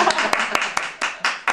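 An audience claps in seven sharp, evenly spaced claps, close and crisp over a short burst.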